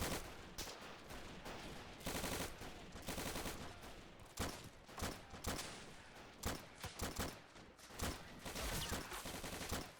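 Machine gun fire in a war video game: rapid bursts of automatic gunfire mixed with other shots, loud and repeated in short volleys with brief gaps, with no talk over it.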